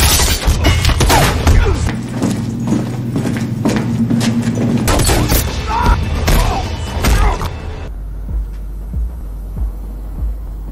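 Gunshots ring out in an action film scene as Judge Dredd fires on two thugs guarding a Slo-Mo drug lab, loud sharp bursts over a dense, rumbling score, ending in a sudden drop to a low hum.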